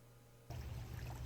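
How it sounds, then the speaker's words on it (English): Water feature at a garden center, with a steady splashing trickle that starts abruptly partway in and then continues evenly and fairly close. "Water feature."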